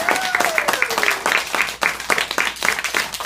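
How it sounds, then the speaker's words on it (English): A classroom audience claps continuously after a student's school presentation on black bears, a brisk, fairly close patter of many hands with a voice speaking over the applause. "Another big clap for Finn!"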